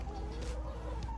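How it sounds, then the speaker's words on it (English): Backyard chickens cluck softly in a garden, with a few short, murmuring calls at moderate distance over a steady background hum. "And so they cluck at each other going, how'd you get there?"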